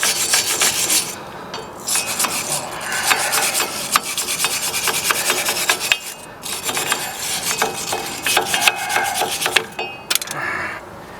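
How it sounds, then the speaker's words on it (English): A wire welding brush scrubs a pickup truck's rear brake parts in rapid, harsh back-and-forth rasping strokes, close and continuous, with a few short pauses between bursts. "Need a better brush. I stole my dad's welding brush."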